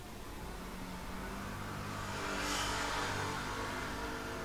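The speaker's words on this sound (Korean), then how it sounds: "오토바이 지나갔어요." A motorcycle passes by outdoors at a distance, its engine rising to a broad swell of noise around the middle and then fading, heard through steady background hum with no talk.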